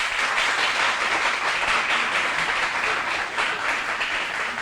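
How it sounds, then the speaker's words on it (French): A crowd at a Génie Scolaire school quiz contest between Collège Saint-Martin de Tours and Lycée du Cent Cinquantenaire applauds warmly, a dense, steady roar of many hands clapping that stays loud and unbroken throughout with no voices. "je vous demande de l'applaudir chaudement"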